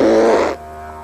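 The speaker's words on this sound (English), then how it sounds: "That resultant farting sound indicates you're on the right track" Air squeezed out between puffed cheeks as a didgeridoo exercise gives a loud, buzzy, fart-like blurt lasting about half a second, then stops abruptly, leaving a quiet background tone.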